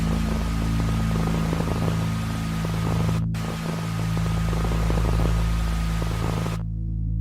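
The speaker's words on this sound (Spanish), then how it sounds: "hasta que se detuvo en un canal sin señal, con pura estática" Steady hiss of television static on a channel with no signal, with a low hum underneath, continuous and fairly loud, broken only by a brief dropout before cutting off near the end.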